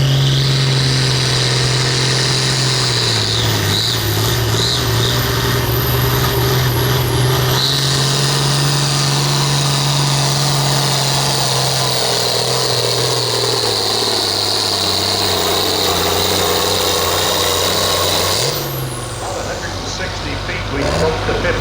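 Farm stock 1066 tractor at a tractor pull, its engine roaring loudly and continuously, pitch dipping and climbing as the throttle opens, then easing off near the end.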